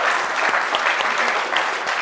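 An audience claps briskly and evenly at a talk event on fashion, a thick, close wash of hands with no voices over it.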